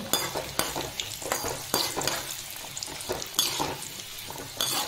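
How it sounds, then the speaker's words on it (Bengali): Potatoes fry in hot oil over a medium-high gas flame, giving a steady close sizzle broken by scraping stirs and a few sharp utensil knocks, with no talking. "এবারে অল্প অল্প করে আলুগুলো ফ্রাই করে নেব।"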